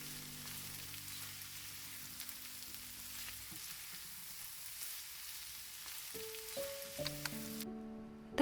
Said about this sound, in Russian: Обжариваем овощи с перцем где-то около 7 минут, чтобы они немножечко обмякли и стали помягче